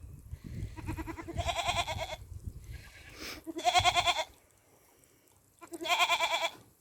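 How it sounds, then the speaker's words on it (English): Young male goat on a farm, heard bleating three times in drawn-out, nasal calls spaced a couple of seconds apart, with soft rustling and shuffling between them and no speech. "He's a lovely little goat."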